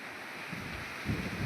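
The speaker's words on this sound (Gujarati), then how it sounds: "હવે વરસાદ આવ્યો હવે પવન થઈ ગયો હોય" Wind rushes and rumbles against the microphone in a steady roar that swells toward the end, as rain begins to fall.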